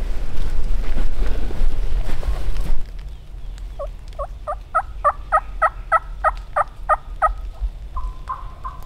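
Wild turkeys on Texas public land gobble in a rapid run of about a dozen short calls from a moderate distance, after a stretch of heavy wind rumbling against the microphone.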